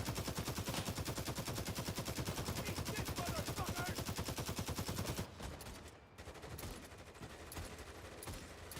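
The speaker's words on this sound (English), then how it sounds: "They're shooting at us." Rapid automatic gunfire from a multiplayer shooter game, a dense, steady burst of machine-gun fire for about five seconds, then scattered quieter shots and game noise.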